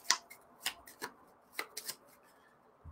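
A deck of cards is shuffled by hand at a tabletop game. It comes through as a few quiet, separate papery snaps and riffles spaced irregularly, close by, with no talking.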